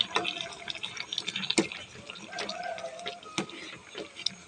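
Rich coconut milk being poured into a container, a thin running and dripping trickle broken by small clinks and splashes, close by in a quiet room.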